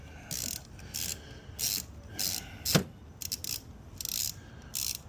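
Ratchet strokes tighten valve cover bolts in a steady series of about eight short clicking bursts, close and moderately quiet, with a single sharper metallic knock midway and no talking.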